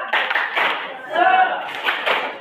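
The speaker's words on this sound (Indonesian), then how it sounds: "Tepuk semangat." A classroom group performs a rhythmic cheer clap, short bursts of unison clapping alternating with shouted chant voices.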